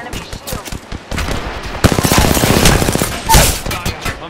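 Loud, rapid automatic gunfire in the Apex Legends shooter game, with tight bursts of shots that swell into a dense, sustained volley up close.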